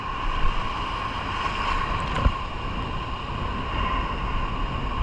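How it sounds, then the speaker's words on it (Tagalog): Strong wind roars over a rough sea during an ultralight casting fishing trip, a steady rushing noise of wind buffeting and surf with a single brief knock midway. "Malaki na yung dagat, kaya malakas na rin yung hangin."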